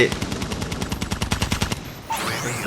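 Rapid, evenly spaced automatic fire from the GKS gun in Call of Duty Mobile, a close, loud rattling burst lasting nearly two seconds before it stops and other game sounds take over.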